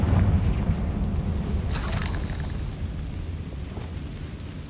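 Confringo fire spell from Hogwarts Legacy bursts in a single sharp blast partway through, over a low rumbling bed that trails off slowly afterward.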